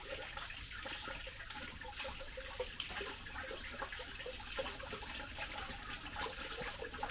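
Water is poured into the cooling system of a Mazda MX5 ND2 engine during a coolant flush, a continuous faint splashing and gurgling trickle with no talk.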